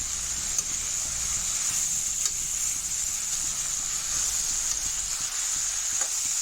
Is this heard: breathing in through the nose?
no